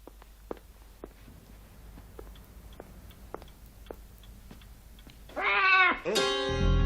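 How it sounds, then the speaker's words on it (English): A cat meows loudly and close by near the end, a few drawn-out cries following quiet ticking and soft movement indoors; the setting is a 1977 film. "I didn't know you had a cat."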